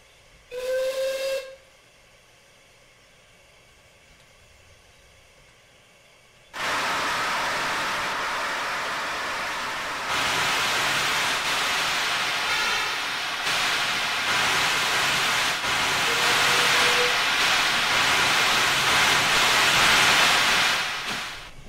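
A Caledonian Railway Pickersgill 191 steam locomotive in Train Simulator 2020 gives a short whistle blast, then after a pause releases a loud, sustained roar of steam hiss that builds and carries on, with a second faint whistle tone midway.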